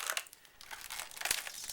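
A heavily taped package is worked open with bursts of crinkling and tearing plastic and tape, faint and close, in irregular rustling pulses with a sharper rip near the end.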